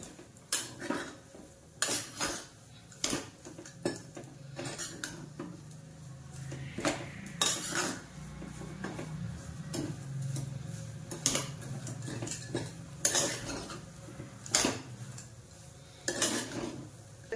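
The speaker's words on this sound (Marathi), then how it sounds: "हे गॅस बंद करायचा जरा आणि मिक्स करायचं" A spoon stirs and scrapes sweet mung dal sheera made with ghee in a pan, with sharp metallic clinks and knocks at irregular intervals over a low steady background hiss.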